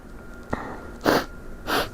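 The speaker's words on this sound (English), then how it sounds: "Wait, I gotta sneeze." A person sneezes close by during allergy season: a short sharp intake of breath followed by two breathy, noisy sneeze bursts in quick succession, fairly soft overall.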